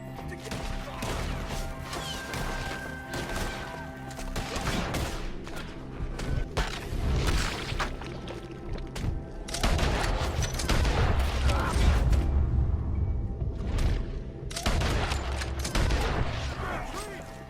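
A Red Dead Redemption 2 gunfight in an ambush, with repeated gunshots and impacts popping over a dense, loud mix of music and effects, while voices shout during the shootout.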